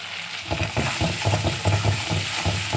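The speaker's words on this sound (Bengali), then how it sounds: "মশলাটা আমার সুন্দর করে ভাজা হয়ে গেছে, আর বেশি ভাজবো না, দেখবে সর্ষে বেশি ভাজলে আবার তেতো হয়ে যায়।" Mustard spice paste fries in a pan while being stirred, giving a continuous close sizzle broken by rhythmic scraping strokes of the spoon.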